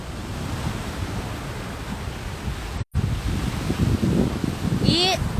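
Baltic Sea waves wash onto the white sand of Yantarny beach near Kaliningrad, a continuous broad surf roar mixed with wind buffeting the microphone, with a brief dropout midway.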